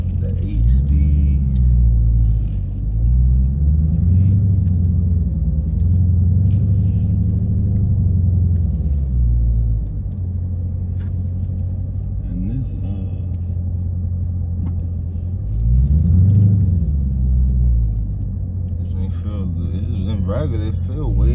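A 2018 Dodge Challenger with an 8-speed transmission drives along, its engine rumbling low and loud from inside the cabin and rising and falling as it revs through the gears, while someone talks over it.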